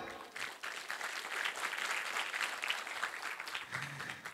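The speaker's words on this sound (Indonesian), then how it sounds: "Tepuk tangan buat beliau." An audience applauds a guest, a CEO of an audio company, being called to the front at an event, giving steady, moderately distant clapping that carries on throughout without voices.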